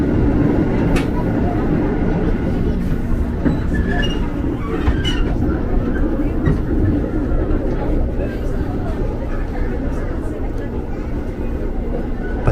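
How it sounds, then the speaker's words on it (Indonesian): A commuter train departs Jakarta Kota Station, rumbling steadily close by, with occasional metallic squeals and clatter from the wheels, and people talk faintly in the background. "Pas banget ada komuter lain berangkat dari jalur 10."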